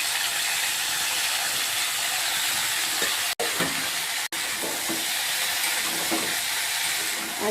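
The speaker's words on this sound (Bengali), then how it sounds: "ব্রোকলিগুলো একটু ভেজে নিচ্ছি" Broccoli florets frying in oil in a kadai make a continuous, close sizzle with light clicking stirs and two momentary dropouts.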